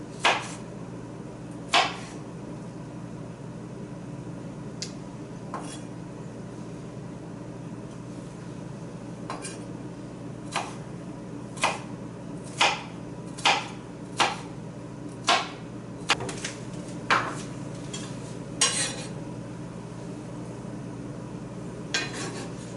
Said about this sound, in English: I'm going to cut it in long strips